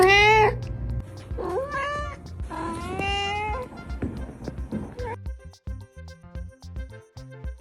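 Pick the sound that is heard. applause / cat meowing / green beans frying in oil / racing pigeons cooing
cat meowing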